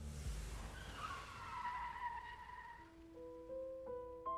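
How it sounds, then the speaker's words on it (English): A car skids under hard braking with the parking brake pulled, a drawn-out tire squeal that fades over a few seconds before some rising tonal sounds, heard at moderate distance with no talking. "Slamming down on the brakes while popping the parking brake sent the car skidding a little"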